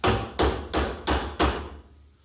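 Five evenly spaced hammer blows ring out loud and close, driving a part out of a modified tire plugging tool for a Kubota BX2660 tractor tire, then the last strike decays into quiet.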